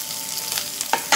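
Onions and green chillies fry in a pan for a cabbage-coconut stir-fry, a soft steady sizzle with a couple of brief stirring scrapes near the end, no voices.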